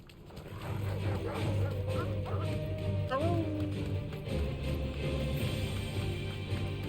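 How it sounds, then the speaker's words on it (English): Dog in the video game Final Fantasy XVI, producing wavering whimpering yelps and a rising howl-like cry close up over a low game soundscape. "Just joining him in some howling fun."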